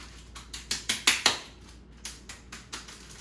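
Lamb chops shaken around inside a sealed Ziploc bag, a run of crinkly plastic rustles and soft thuds in a quick, uneven rhythm, close and moderately loud.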